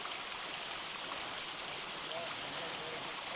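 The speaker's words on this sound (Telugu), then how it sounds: "just water stream" A forest water stream flows on the Kumara Parvatha trek, giving a constant rushing wash of water at an even level throughout the short stretch, with no speech.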